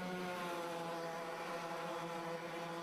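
A race car engine howls at full throttle in a Grand Prix racing video game through Club Corner, a steady, loud, dense drone with no break or gear change.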